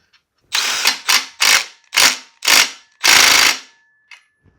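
A ratchet tightens the steering stem bearing nut on a Predator-engined minibike frame. Six loud, close bursts of rapid clicking come in a steady rhythm, the last one longest, followed by a faint click.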